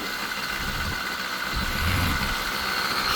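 A motorized bicycle's small engine runs on its own just after being started following a year in storage, a close, steady buzzing idle with a slight rise partway through.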